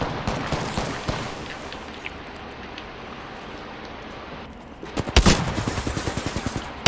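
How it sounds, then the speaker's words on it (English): Rapid gunfire rattles through a video game match, with scattered shots early on and then a loud, sustained burst of fast repeated shots near the end. "I kept shooting"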